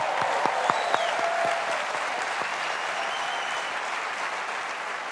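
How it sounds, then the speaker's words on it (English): Audience applause for a troupe of Cape Town singers, actors, dancers, musicians and puppeteers at an awards ceremony, a steady wash of many clapping hands with a few sharper claps near the start, sustained and even throughout. "Let's give them a big round of applause."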